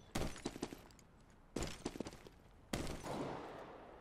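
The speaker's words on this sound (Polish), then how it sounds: "Słyszałem jakiś strzał, ale nie wiem." Three bursts of rapid gunfire in the video game Counter-Strike: Global Offensive, with short echoing tails, separated by brief pauses, fairly quiet overall.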